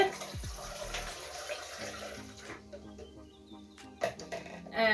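Bottled water pours into a blender in a continuous splashing stream for a few seconds, close by, then tapers off with a faint knock at the end.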